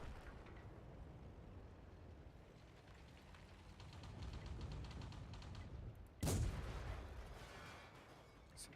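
A tank cannon fires once in the World of Tanks video game, a sudden loud boom that punches through a steady roar of engine and battlefield noise before trailing off in a rumbling echo.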